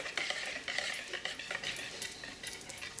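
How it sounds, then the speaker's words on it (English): A whisk clinks against a bowl while stirring chocolate ganache frosting, quick irregular metallic taps and swishes, close and fairly quiet. "I've been hard at work with my whisk for about 3 or 4 minutes now"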